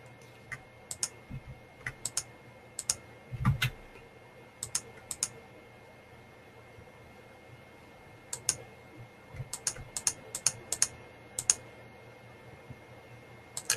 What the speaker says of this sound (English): hit Control-A on your keyboard